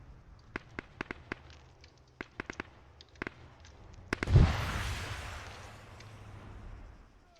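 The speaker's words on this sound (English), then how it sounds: "That missile just went out hella far." Arma 3 missile launch and explosion in a video game battle: a sequence of sharp pops and clicks, then one loud blast rising into a broad rushing roar that slowly fades, with no talk over it.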